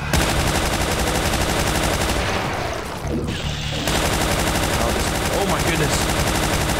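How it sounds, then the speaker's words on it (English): Chain gun firing in the video game Doom, SIGIL episode 5, as a dense rapid burst that runs almost continuously, dips briefly midway, then resumes loud, with a short spoken exclamation over it. "we got our chain gun finally"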